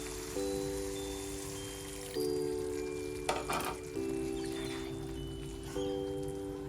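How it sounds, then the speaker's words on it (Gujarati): A pan of moong curry sizzles steadily as water is poured in, with a short splashy burst midway over a constant frying hiss and a faint electronic hum. "હવે આપણે તેમાં થોડું પાણી ઉમેરીશું"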